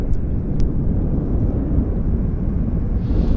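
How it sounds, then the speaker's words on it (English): A Falcon business jet taxis at Vancouver airport, a steady low rumbling engine roar heard continuously at moderate distance, with wind noise mixed in. "But we've got this Falcon taxiing onto the active."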